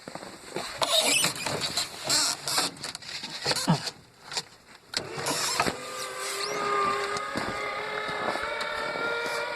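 A working steering actuator turns a frame's wheels after a switch is flipped, giving a steady mechanical whine with layered tones that settles in after several seconds of scattered clatter and rustling.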